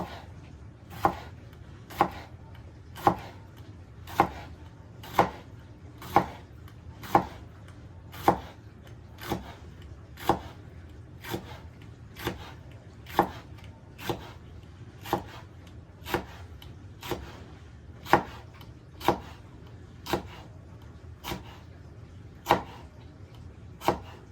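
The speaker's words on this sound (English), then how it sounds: "We got some thinly sliced jalapenos." A knife slices jalapeno peppers thinly on a cutting board for turkey and black bean chili, making about twenty crisp, evenly spaced chops that sound close and clear over a quiet kitchen background.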